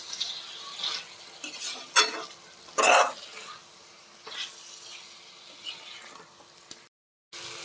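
Chilli powder stirred into frying chicken curry with tender tamarind leaves, a spoon scraping and sizzling in bursts with soft clatter, no talk.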